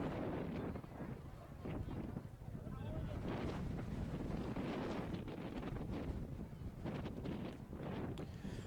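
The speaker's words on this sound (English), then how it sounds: "So you can really hear that wind whipping in the background." Wind whipping across an outdoor sports field during a Corning at North Bay game, a steady loud buffeting roar on the microphone throughout, with faint talk beneath it.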